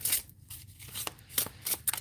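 Quick papery riffles and flutters of cards being shuffled close by, in uneven bursts.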